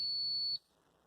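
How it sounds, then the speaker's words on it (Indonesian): A digital multimeter buzzer sounds a single steady high-pitched tone for about half a second during a continuity test, then cuts off abruptly into near silence. "Berarti di sini mengukur dioda dan buzzer."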